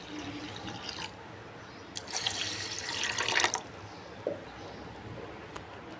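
Water runs from a tap in short bursts into a container while rice and lentils are washed, with a longer splashing stretch in the middle and a few drips afterward.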